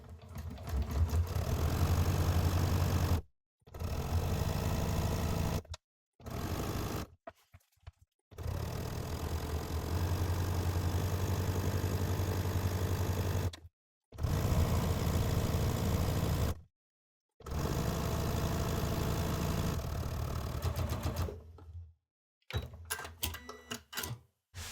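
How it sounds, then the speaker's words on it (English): A sewing machine stitches a seam along a strip set of paired fabric strips, its motor whirring in long steady runs broken by several short pauses, close and even, with no talking. "as I feed this strip set through my sewing machine"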